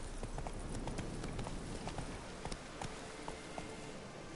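Roach, the horse in The Witcher 3: Wild Hunt, galloping with a steady, fast clip-clop of hooves that runs unbroken and close throughout, loud over a continuous background.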